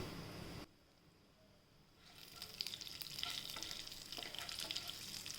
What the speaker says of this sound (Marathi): तेल तापलं आहे, आपण मोहरी आणि जिरं टाकूया.